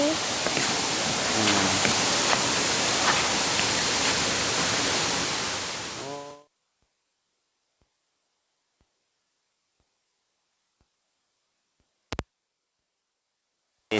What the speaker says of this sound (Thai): ฟังเสียงน้ำนำกันเด้อน้ำตกตาดกวงสีนี่นะ